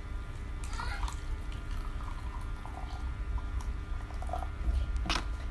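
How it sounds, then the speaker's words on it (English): Purple cabbage water poured into baking soda for a school acid and alkali experiment, a soft continuous splashing and trickle of liquid with faint handling noises, steady throughout and close by. "purple cabbage in. I'm going to pour."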